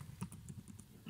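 Quick light taps on a computer keyboard, a short run of soft clicks close by and fairly quiet, ending with a slightly firmer key press, no voices.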